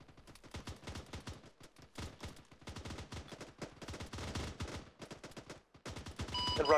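Rapid bursts of heavy cannon and automatic gunfire in the military video game ArmA 3, loud and close, rattling in dense clusters with brief pauses across several seconds, no talk.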